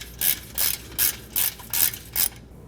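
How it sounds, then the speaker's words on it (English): A hand ratchet loosens the heat shield bolts over the catalytic converter on a 2000 Honda Civic, six quick, evenly spaced clicking bursts close up, then quiet. "Once we've removed our 4 bolts for our cover, we're going to remove our cover"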